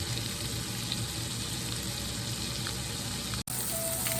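Fish fillets sizzling on a BBQ grill give a close, steady crackling hiss that runs unbroken apart from one brief dropout near the end.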